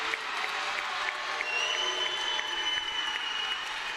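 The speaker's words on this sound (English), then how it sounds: "Those blocks really get the crowd going." Crowd in a college volleyball gym applauds and cheers after a block, a steady wash of clapping and cheering that holds at an even level for several seconds.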